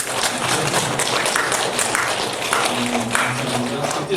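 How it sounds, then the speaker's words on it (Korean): Church congregation clapping at a Sunday morning service to welcome a returning deacon, steady dense applause filling the room, with voices faintly mixed in. "박수로 환영하겠습니다"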